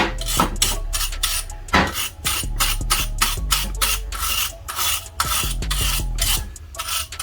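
A stainless steel wire brush scrubs oxide off metal parts during a water pump upgrade with a new steel pulley and AN fittings, giving loud, steady rasping strokes that surge and pause in an irregular rhythm, close up and alone.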